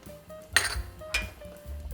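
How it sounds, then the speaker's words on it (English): A metal whisk clinks against the side of a pot of cream of asparagus soup while salt and pepper are stirred in, two sharp ringing taps over a low steady hum. "And you're going to whisk that in."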